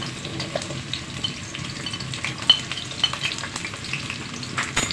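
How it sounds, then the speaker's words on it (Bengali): Chopped onions and whole garlic frying in hot oil for a Bengali duck curry, a steady low crackle with occasional sharper pops and spoon scrapes, fairly close and alone without talk. "তেলটা গরম হয়ে গেলে আমি দিয়ে দিচ্ছি পেঁয়াজগুলো"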